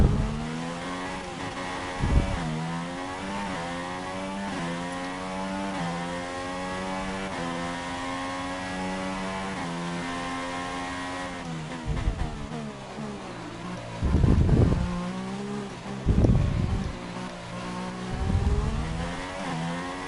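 Formula 1 race car in a video game, a fresh engine pulling hard out of the pit lane: a loud, sustained high-pitched engine whine climbing steadily through the gears, with brief sharp shifts and bursts of revving near the end.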